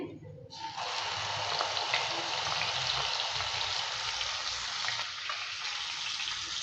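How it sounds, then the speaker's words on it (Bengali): A loud, steady sizzle erupts after half a second as wet spice paste hits hot oil, then keeps hissing evenly to the end. "সেই পেস্টটা এবার ঢেলে দিচ্ছি"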